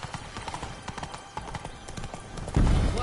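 Galloping horse hooves in The Witcher 3 beat in a quick, steady clip-clop rhythm, close and clear, with a low rumbling swell at the end.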